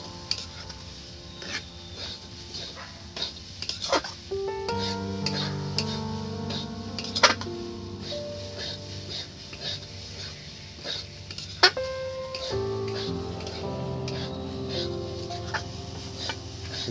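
Fresh coconut being stirred in a pan for narkel naru, with soft scraping and faint sizzling under steady background music; no voices.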